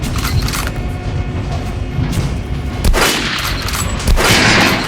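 Gunfire from Metro Last Light striking an armored target, a loud, continuous barrage of shots with sharp bursts near 3 and 4 seconds, alone with no talking.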